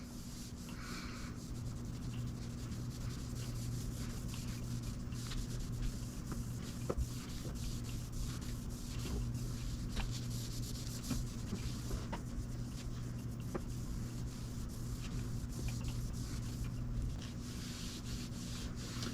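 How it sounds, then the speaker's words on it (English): A rag rubbing finish into a guitar body during a setup, a continuous soft scrubbing and swishing with faint repeated strokes, steady and close, with a low hum in the background. "you're going to rub it until it becomes dry. You're not letting it set. You're rubbing that finish in."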